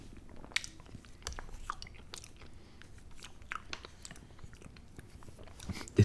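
Quiet, close chewing and soft crunchy bites of Halo Top vanilla maple ice cream, with irregular small mouth sounds and faint smacks throughout.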